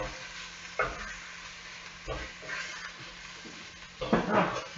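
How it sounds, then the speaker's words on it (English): Beef browns in oil for stroganoff, giving a soft continuous sizzle with occasional scraping and stirring bursts from a utensil in the pan, close and moderately quiet. "So we're just browning off the meat."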